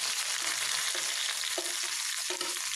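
Chopped onions fry in mustard oil, a strong continuous sizzle with intermittent scraping of a spatula stirring them in the pan.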